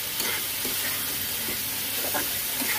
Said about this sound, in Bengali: দিয়ে আবার ভালো করে কষে নেব।